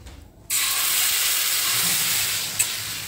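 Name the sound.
pancake batter sizzling on an oiled pan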